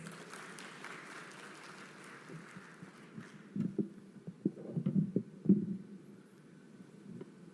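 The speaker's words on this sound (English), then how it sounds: "let's welcome him with a round of applause." Moderate applause from a crowd at a Tanzania–Singapore business forum with President Samia Suluhu Hassan, clapping building after a quiet start and then tapering off, heard from a slight distance.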